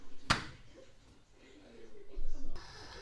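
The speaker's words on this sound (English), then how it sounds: "Clap it onto the pan" A chapati for home-made chicken curry is slapped onto a hot pan, one sharp close smack followed by quiet kitchen sounds and a soft sizzle rising near the end.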